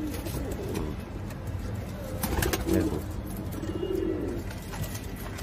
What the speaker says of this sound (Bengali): ওই যে দেখুন লাল যে পায়রাটা ডাকছে